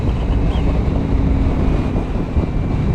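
Loud, steady wind buffets the microphone while riding a Ninja 250 motorbike across a bridge over water, a continuous low rumble with engine drone underneath and no talking.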